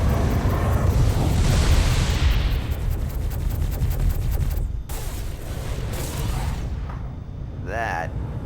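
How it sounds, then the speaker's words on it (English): A missile launches and explodes in the space game Star Citizen, a loud sustained roaring blast that fades over several seconds and ends with a brief rising whoosh. "Missile launch."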